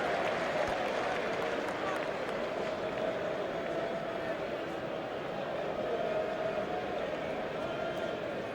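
Crowd at an England cricket Test match applauding, a steady, distant wash of clapping and murmur that holds at an even level throughout, with no single sharp moments.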